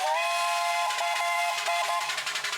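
A McLaren steam road locomotive at a country steam fair sounds its whistle: a loud, steady, shrill, breathy tone held for over two seconds, with faint chuffing pulses beneath.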